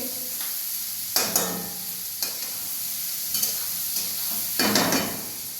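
Onion and tomato sizzle in hot oil as a tempering for masala dosa filling, a steady soft fry broken by about five sharp scraping stirs of a spoon against the pan.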